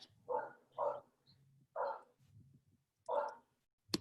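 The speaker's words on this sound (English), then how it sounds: "Oh, is that my dog? Is he that loud?" A dog barks four times in short, moderately loud bursts with soft gaps and faint low background noise between, heard indoors at some distance from the microphone.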